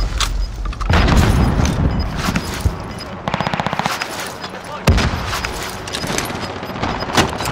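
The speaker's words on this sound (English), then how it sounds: "Enemy shooting." Automatic rifle fire and explosions from Call of Duty: Modern Warfare multiplayer, with dense overlapping bursts, a rapid rattling volley and a sharp loud blast, continuous and close throughout.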